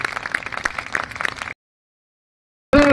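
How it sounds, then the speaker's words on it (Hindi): Audience applause greeting the chief guest at a public gathering in Kalyanpur, Munger: a burst of clapping for about a second and a half, then silence, then a loud new sound cutting in at the end. "जोरदार ताली से हमें मुख्य अतिथि महोदय का अभिवादन करें"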